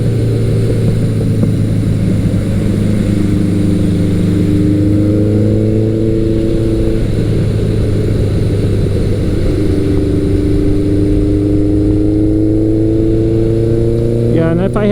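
A vintage Suzuki GS1100L motorcycle engine runs steadily at close range, a smooth continuous drone whose pitch rises and falls through several revs and gear changes, loud throughout.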